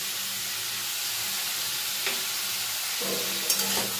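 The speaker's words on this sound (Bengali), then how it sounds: "শসা আর আলুটা কিছুক্ষণ তেলের মধ্যে আমি নাড়াচাড়া করে নিয়েছি।" Cucumber and potato frying in oil give off a steady, close sizzle, with a few scrapes and clatters of a spatula stirring toward the end.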